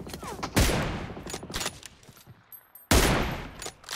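Gunfire in PUBG Mobile, a battle royale shooter: loud bursts of shots open and return near the end, with smaller scattered shots between and a dip to near quiet before the final volley.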